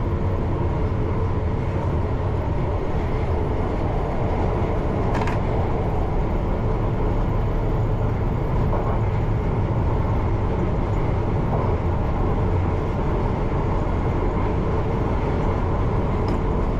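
A London Underground train runs through a tunnel between Cockfosters and Heathrow T4, a loud, steady low roar and rumble with rattling that holds unbroken from start to end.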